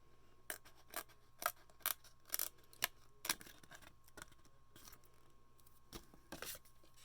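Scissors trimming a piece of acetate for a window card, a series of crisp close snips spaced unevenly, quiet room with no talk.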